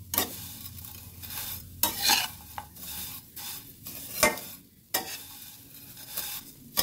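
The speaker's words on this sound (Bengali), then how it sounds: "সেমাইটা ভেজে নেব।" Semai vermicelli frying in a pan for a sweet zarda dish, with steady sizzling and repeated scraping stir strokes from a utensil, close and fairly quiet with no talk.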